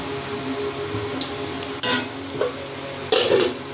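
A lid is set onto a cooking pot while fish cooks in a home kitchen, giving several distinct metallic clanks and clinks, the loudest landing near the end, over a faint sizzling background with no talking.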